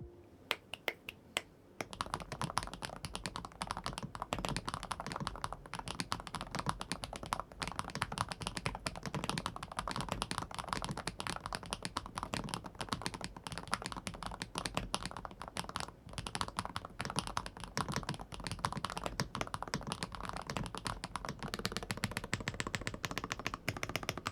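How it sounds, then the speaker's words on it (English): Steady, fast typing on an EPOMAKER G84 HE keyboard with Dusk Rise magnetic switches and keycaps fitted, a dense close-up clatter of keystrokes that runs nearly nonstop after a brief sparse start. "here's a little sound test with the switches and the keycaps on"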